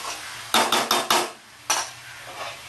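A metal lid set down on a cooking pot of cabbage with prawns, a quick cluster of four close clinks and clatters followed by one more knock after a short pause, with nobody talking.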